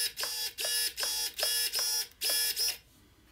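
An HK47903TM magnetic induction servo sweeping back and forth in six quick, evenly spaced bursts of high-pitched whirring buzz, close and clean, with silence at the end.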